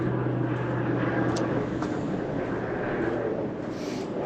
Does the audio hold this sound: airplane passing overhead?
yes